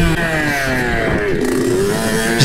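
Close, loud Kawasaki KDX220 dirt bike held in first gear and revved hard on a rocky riverbed, its rising and falling pitch sweeping up and down steadily with no pauses and no talking.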